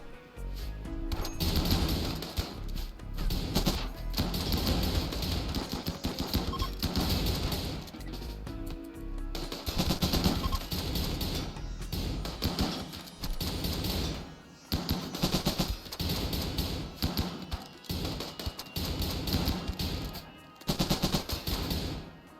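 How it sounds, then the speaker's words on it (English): Sustained gunfire from six leveled guns in the video game RimWorld as raiders are met underground, a dense, loud, nearly continuous barrage of shots with brief pauses. "The dwarves lured the enemy inside and met them with 6 leveled guns."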